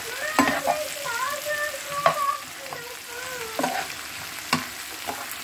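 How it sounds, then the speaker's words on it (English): Honey garlic chicken sizzles steadily in a frying pan while being moved around, with repeated scraping and stirring clatters over a continuous crackle, close and fairly loud, no talking. "we're going to let this pan fry. And as it pan fries, we're going to move it around."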